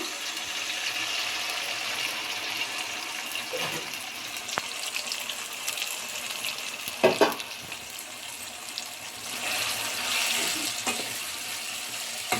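Spices temper in hot oil with a steady, close sizzle and crackle, punctuated by a few sharper pops and spatters as ingredients hit the pan, with no talking.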